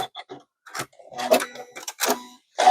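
Scissors snip sewing threads on a quilt binding at a sewing machine: a few short, crisp cuts and clicks close by in otherwise quiet surroundings.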